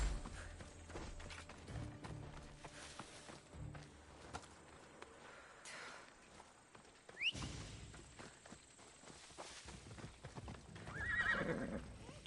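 Horse hooves clip-clop steadily with a neigh and whinny, over busy game ambience and background noise, in Assassin's Creed Odyssey on PS4.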